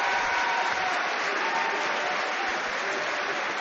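A York Hall boxing crowd applauding, dense sustained clapping filling the hall from start to finish, loud and steady with no break.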